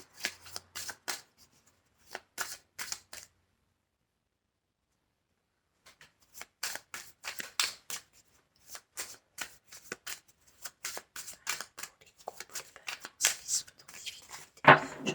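A deck of tarot cards is shuffled in repeated brisk riffling bursts separated by short pauses, close and fairly quiet, with no talking.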